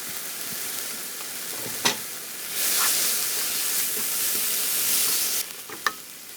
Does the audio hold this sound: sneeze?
no